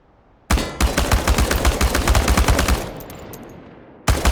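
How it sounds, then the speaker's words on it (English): Automatic rifle fire aimed at cans in Chernobylite: a loud, rapid burst of shots runs for about two and a half seconds and trails off, then a fresh burst cuts in near the end. "The biggest challenge is compensating for recoil in automatic firing mode."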